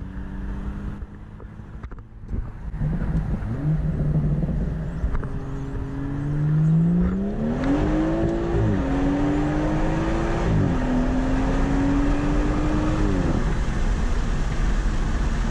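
A BMW M240i with an MHD stage 1 tune accelerates hard through its gears, the engine note climbing in pitch, dropping sharply at each shift and climbing again, loud and close with no talking.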